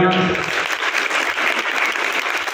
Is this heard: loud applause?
yes